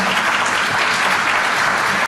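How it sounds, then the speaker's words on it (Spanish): Loud, dense applause from an audience welcoming a psychiatrist onto the stage for a parenting talk, a thick continuous roar of clapping close by that cuts off abruptly. "a quien recibimos con un fuerte aplauso, por favor"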